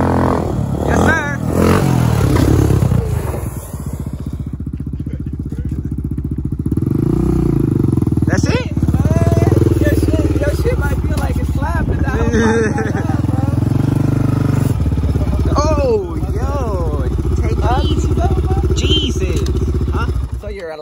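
A quad bike engine runs loudly and steadily for about twenty seconds, rising and falling as the throttle is worked, with people talking and shouting over it.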